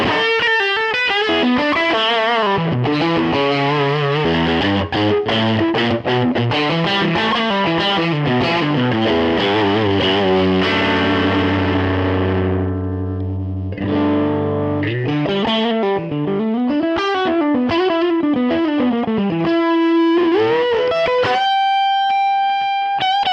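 Stratocaster electric guitar played through a UAFX Dumble-style overdrive pedal with the gain cranked, loud and close in a room without delay or reverb, a continuous run of driven melodic lines and chords ending on a sustained note.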